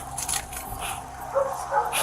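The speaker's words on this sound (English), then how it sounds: "that sounds like bigger dogs" Large dogs bark in a short run of deep, echoing woofs, fairly close, with whimpers and yips mixed in and some background noise.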